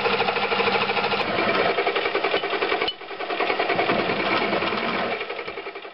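Drilling a hole through a metal block for a Porsche P 233 workshop tool, a loud continuous machine drone with rapid chattering pulses, dipping briefly midway before resuming steadily.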